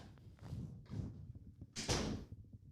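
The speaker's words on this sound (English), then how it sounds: "Can you close the door," A door shuts with a broadband thump near the end, close by in a quiet room, following a few softer bumps and shuffling sounds.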